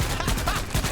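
Rapid gunfire bursts from a multiplayer video game, a dense, fast string of loud overlapping shots with artillery in the mix.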